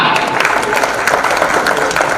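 A crowd at a Pandit Deendayal Upadhyaya program claps loudly and continuously for a couple of seconds, dense and close, with a voice faintly underneath.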